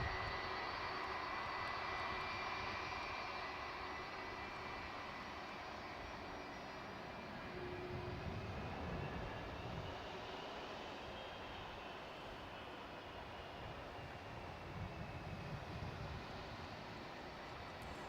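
Steady jet aircraft engine roar at DFW International Airport, a continuous broad rumble that swells slightly midway and holds at a moderate distance throughout with no talk.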